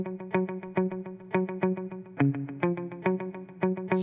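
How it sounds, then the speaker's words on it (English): Electric guitar plucking a rhythmic repeating afrobeat pattern, its tone swirling and sweeping from phaser and flanger effects, moderately quiet. "Let me turn on the phaser and the flanger."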